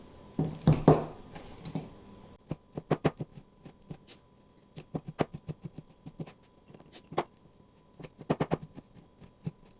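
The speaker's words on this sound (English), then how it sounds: "So these dates also I'm roughly chopping." A knife roughly chopping dates taps a cutting board in quick, irregular bursts of short chops, with brief pauses between runs, close and fairly crisp.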